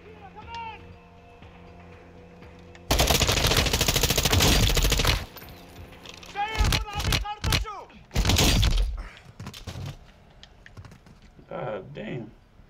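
Gunfire from the video game Call of Duty Modern Warfare II comes as a loud sustained burst followed by several shorter bursts and blasts, with radio-style voices talking between them over a background game score.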